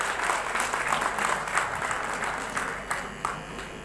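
A crowd applauds steadily at a poetry mushaira in Karachi, a dense wash of clapping that tapers slightly toward the end.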